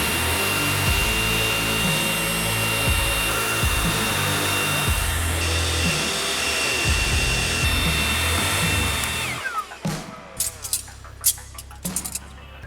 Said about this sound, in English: I'm gonna get the leaf blower and dry that thing off a little bit.